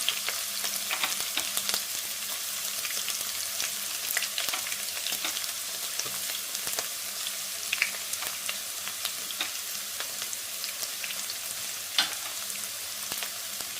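Onions frying in hot coconut oil in a kadai, a steady close sizzle full of fine crackles and scattered sharper pops, continuous throughout with no talk.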